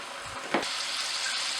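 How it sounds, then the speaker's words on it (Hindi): Two cut medium-sized potatoes fry in hot oil, a steady close sizzle with a brief louder burst as pieces shift in the pan. "तो इस तरह से हमें आलू को भी फ्राई करना है।"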